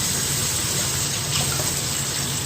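Water runs steadily from a faucet over a hand in a continuous close gush, with no voices.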